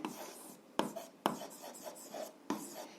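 A pen or pencil writes by hand on paper while an algebra equation is worked through, a soft, close scratching that carries on steadily with a few sharper taps. It is faint and no one speaks.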